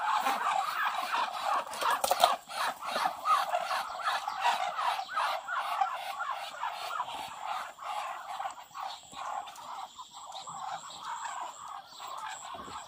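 A crowd of ducks and other fowl at a rural Lao house in the early morning, a busy overlapping chorus of quacks and squawks carrying on continuously at close to moderate distance.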